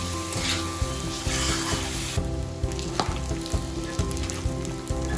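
Chicken deep frying in a pan with little oil sizzles loudly and steadily, while a utensil stirring it makes repeated scraping knocks against the pan.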